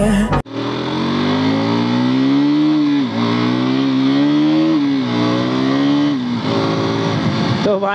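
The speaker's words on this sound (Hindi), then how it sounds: "भाई साहब अभी बैरागी मोटो ब्लॉक से भैया की बाइक चला रहे हैं" A motorcycle engine drones loudly and steadily while the bike is ridden on a Sunday ride, its pitch rising and dipping as the rider throttles, with wind rush close to the microphone.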